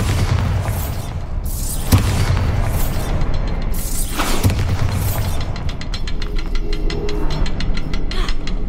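Bombarda blasting spell explosions in the video game Hogwarts Legacy: a few loud, booming blasts roughly two seconds apart over a steady rumbling game backdrop, with crackling debris and clatter trailing off near the end.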